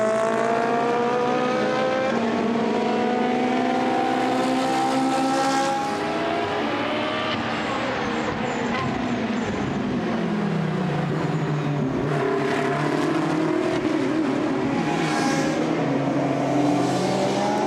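GT sports race cars lapping the Misano circuit in 2015, engines roaring loud and continuous with shifting pitch as they rev, accelerate and sweep past, no voices.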